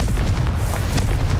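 A Confringo blasting spell going off in the Hogwarts Legacy video game: a brief, loud, rumbling boom with a dense low-end burst and no talking.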